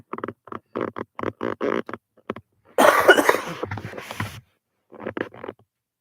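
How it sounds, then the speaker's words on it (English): A short cluster of rough, breathy coughs sits between stretches of quiet speech. "Let me cough real quick."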